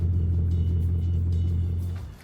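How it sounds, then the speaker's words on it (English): A deep, steady engine rumble from a Bugatti Chiron close by, holding level before fading out at the end. "Soon, Giovanni arrived at the boat with my car."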